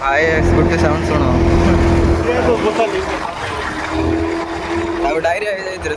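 Engine of a scooter running close by, a steady motor hum with a sustained tone that rises and falls slightly, heard under ongoing talk and background chatter.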